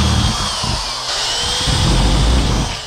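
A power drill cuts holes in a roof to take a jigsaw blade, a steady high whine with shifting pitch as the bit bites, loud and close with no talk.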